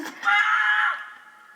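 Someone screams while climbing at Siurana. The scream is a single loud, sustained, strained cry of about a second that tapers off.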